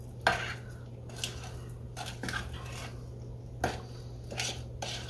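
Brownie batter being stirred in a bowl for fudgy brownies, a few soft scraping, clinking strokes of a utensil against the bowl spaced about a second apart, close and fairly quiet over a low steady hum.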